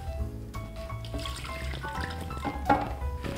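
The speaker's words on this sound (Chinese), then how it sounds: "然后就把这个类似于刷锅水的一盘水全部倒到汤锅里" Hot deglazing water from a pan splashes and pours briefly into a soup pot, with a short gurgling rush and a few clinks, quiet and close.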